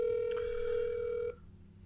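A telephone rings back on an outgoing call, a steady electronic tone held for just over a second and then cutting off abruptly, leaving quiet background.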